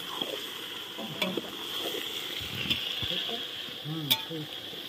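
Chicken and onions sizzle steadily in a hot pan with occasional scraping and stirring, while a voice speaks briefly under the frying.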